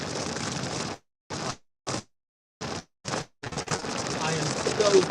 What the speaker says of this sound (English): this rain is probably very loud on the phone